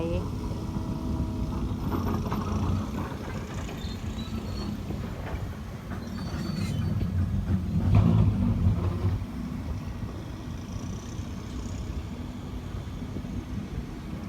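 Excavators and a tractor work farmland in a pond-digging project, a low steady mechanical rumble swelling and easing, heard over the whole stretch with no clear voices.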